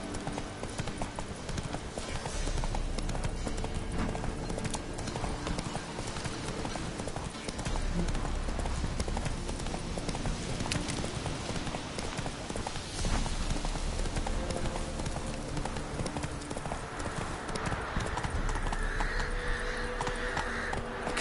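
Roach, a horse in The Witcher 3, gallops without a break, and rapid rhythmic hoofbeats run steadily for the whole stretch over ambient game sound, with occasional faint talk.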